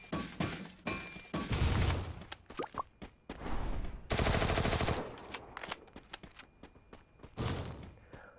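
Video game gunfire from an MP5 submachine gun and a grenade launcher: loud, dense automatic bursts alternating with heavy thumping blasts and brief pauses, close and punchy.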